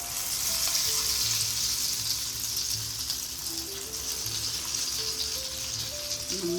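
Chilli chicken marinated in masala deep-fries in hot oil with a dense, steady sizzle and crackle, close and unbroken. A faint low hum sits beneath it, and no one speaks.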